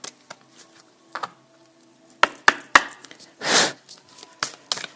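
A deck of tarot cards is shuffled by hand: close, scattered sharp taps and slaps, then a longer riffling burst midway, followed by more crisp card snaps.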